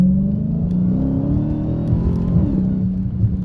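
A Dodge Challenger Hellcat Widebody pulls hard under full throttle, its engine note climbing in a loud, steady, close-up roar that rises in pitch through the whole stretch with no break.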